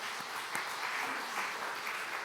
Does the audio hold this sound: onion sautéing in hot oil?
no